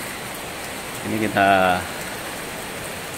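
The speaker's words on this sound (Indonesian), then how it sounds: "baru jam 10 soalnya sudah hujan seperti ini." Steady rain falling at a beach makes an even, wide hiss throughout, and a voice speaks briefly over it midway.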